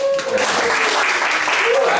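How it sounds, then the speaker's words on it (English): An audience claps at a live stage performance, a dense burst of applause that runs the whole time, with a voice speaking over the clapping. "If you applaud too much, it doesn't seem real."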